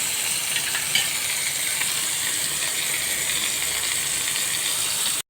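Chicken pieces sizzling and frying in a pan while being stirred, a continuous bright hiss with a small clink near the start, no talk.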